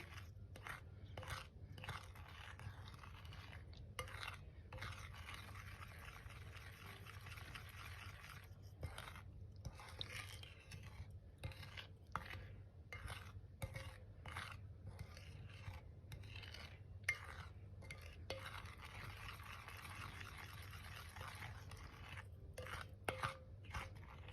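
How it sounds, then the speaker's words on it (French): Chocolate cake batter for a moist chocolate cake being stirred in a bowl, a steady soft scraping and rasping of the utensil running continuously with small irregular knocks, close and fairly quiet, no talking. "Donc on mélange bien cette préparation."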